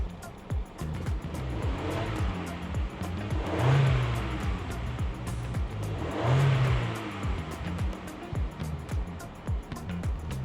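A stationary SsangYong Tivoli Armour Gear Edition's idling engine is revved twice, each time rising to a louder roar and then settling back to a steady idle.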